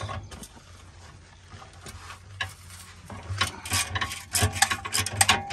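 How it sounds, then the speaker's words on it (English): Battery-powered ratchet removing a bolt from a Ford BA/BF XR6 Barra engine, with bursts of whirring, clicking mechanism growing louder toward the end, close by in a workshop, no talking. "the battery ratchet made that nice work"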